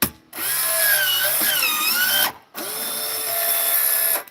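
A home cigarette-making machine whirs loudly and steadily up close, in two sustained mechanical runs split by a brief pause, with a motor-like drone and high rattling tones and no talking.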